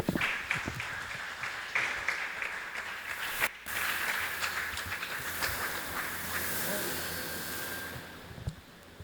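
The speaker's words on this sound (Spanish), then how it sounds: "Denle un aplauso al Señor" A church congregation applauds together, giving a sustained hissing wash of clapping that rolls on for several seconds in a reverberant hall, with some voices mixed in.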